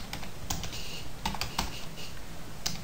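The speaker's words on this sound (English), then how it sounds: "sorry, I'm typing what I'm saying" Computer keyboard keys are typed at an uneven pace, with scattered sharp clicks over a steady background hiss and no voices.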